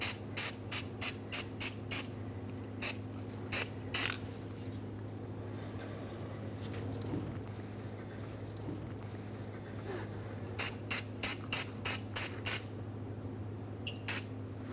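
Anti-seize from a spray can is applied to the rear brake hub of a 2003-2009 Dodge Ram 2500. It comes as a quick series of short, crisp hissing spurts up close, then a quiet pause, then another run of spurts.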